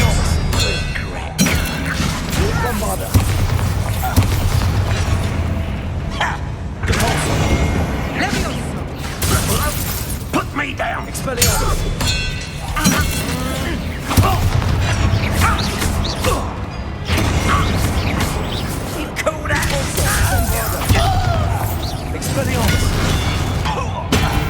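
Spell blasts boom and crash in a Hogwarts Legacy duel, heavy thuds and impacts following one another in a loud, dense battle mix with mechanical clatter and game music underneath.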